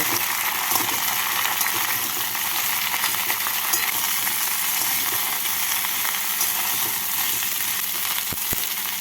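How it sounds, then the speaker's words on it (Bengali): Broad beans and eggplant are stirred through hot oil in a pan, a loud, steady sizzle and crackle that runs without a break, with a couple of sharp scraping knocks near the end. "সবজিগুলোকে তেলের মধ্যে নাড়াচাড়া করে নিলাম"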